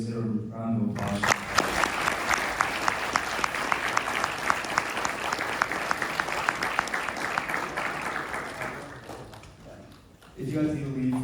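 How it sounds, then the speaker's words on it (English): A seated audience claps in a dense, sustained burst of applause after a talk at UCSB, filling the room for about nine seconds before fading, with a voice speaking just before and just after. "Everybody, let's get a round of applause."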